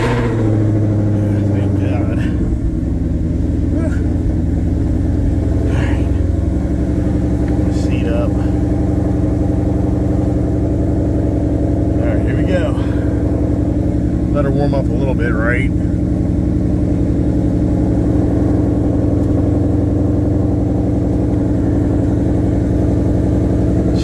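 A 2020 Ford F-150 PowerBoost hybrid pickup runs with a steady low engine rumble close by, a constant drone heard under a voice talking.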